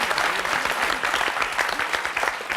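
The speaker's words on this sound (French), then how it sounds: "Bon, on peut l'applaudir, hein." A studio audience breaks into sustained applause, dense and even many-handed clapping that carries on without pause, with no talk over it.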